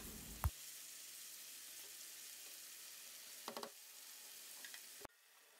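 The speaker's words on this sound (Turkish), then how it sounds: "Kalan patlıcanları aynı yağda kavurmaya devam ediyorum." Eggplant pieces sizzling in hot oil in a pan, a steady close hiss with a couple of brief clatters of stirring before the sound cuts off.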